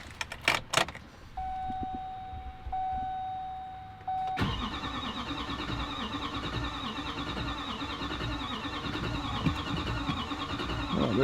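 A Duramax diesel truck engine fires up for the first time after a head gasket replacement, with a sharp crank and catch giving way to a loud, steady clattering idle after a short electronic chime.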